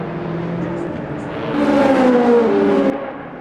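Simulated LMP2 prototype race car engine in Le Mans Ultimate at the Tertre Rouge corner, a sustained tonal drone that swells louder and sweeps down in pitch as the car passes close, then fades.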